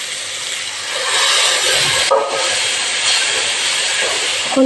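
Masala for an eggplant and potato curry sizzles in a hot pan, a loud, steady, close frying hiss that runs throughout with only a brief dip midway.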